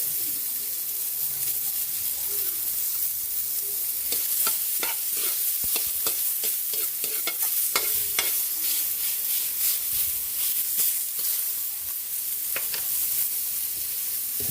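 Onions frying and sizzling in a pan with garlic, a steady hiss broken by repeated scraping stirs of a utensil, close and continuous with no talk.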